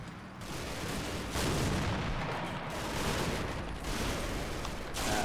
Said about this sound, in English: The MGs are finally putting fire on the AT gun in the background.